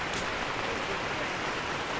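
Steady heavy rainfall near Sapa's Silver Waterfall in the rainy storm season, a dense continuous wash of broadband hiss close to the microphone, without any speech.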